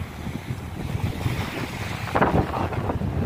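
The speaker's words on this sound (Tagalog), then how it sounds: "Mahangin." Strong sea wind roars across the microphone on a fishing trip near the beach, a continuous gusty rush with waves and water slapping, swelling louder toward the end.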